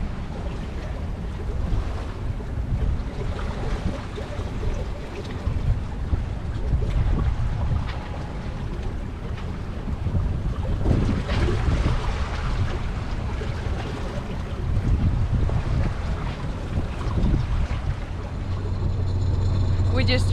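Sailboat surfing down ocean swells under sail, with surging bursts of rushing water against the hull, gusty wind noise on the microphone and low rumbling, while voices talk intermittently over it.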